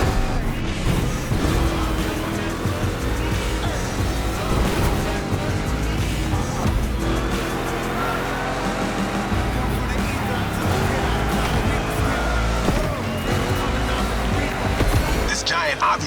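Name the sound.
monster truck Mustang GT racing in video game The Crew Motorfest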